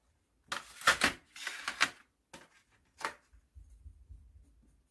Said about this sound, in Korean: 선생님은 색깔을 칠하고 싶어서 한번 색을 칠해 볼게요.